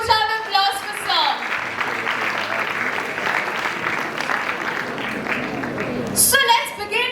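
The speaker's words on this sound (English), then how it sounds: "can we have a huge round of applause for Sir?" An audience at an international startup competition gives a jury member a sustained round of applause, loud and dense throughout, with a voice speaking briefly at the start and again near the end.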